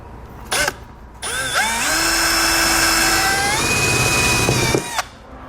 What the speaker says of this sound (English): Once you've got the center drilled out, the rivet can just be pulled out of there.